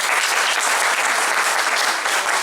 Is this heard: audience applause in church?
yes